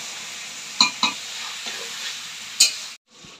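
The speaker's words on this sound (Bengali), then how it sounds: "এবার কাঁচা মাংসটা দিয়ে দিন, দিয়ে এবার ভালো করে নাড়তে হবে" Raw desi chicken meat frying in oil in a pan, stirred with a utensil: a continuous sizzle broken by a few sharp scraping clacks against the pan, then a sudden drop to a quieter sizzle at the end.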